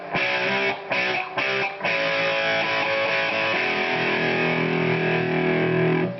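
Crunchy distorted electric guitar through a Marshall JCM 212 combo amp, a few choppy chord stabs followed by a ringing sustained chord, loud with no talking.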